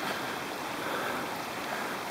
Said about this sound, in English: Some beautiful streams.